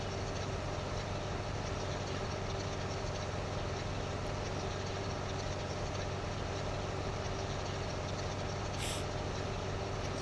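A big, lower-horsepower tractor idles in Farming Simulator 15 with a steady low drone that holds unchanged throughout, plus one brief faint click near the end.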